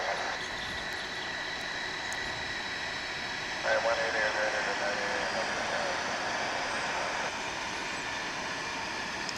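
A UPS Boeing 757's jet engines spool up in the background at DFW airport, a faint rising whine and rumble that swells partway through, with a voice talking over it.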